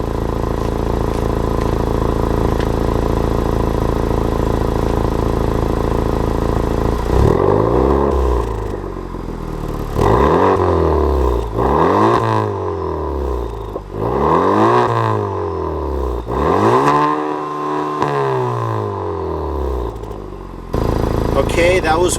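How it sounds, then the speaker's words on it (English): A Honda Civic Type R with a Remus exhaust, baffles fully closed, idles loudly before giving a series of about five sharp revs that rise and fall in quick succession, close up, then settles back to idle. "I'm going to go ahead and rev the engine"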